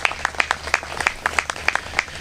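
Crowd applause at an outdoor garden dedication and memorial honoring the family, a steady patter of many hands clapping at close range for a couple of seconds.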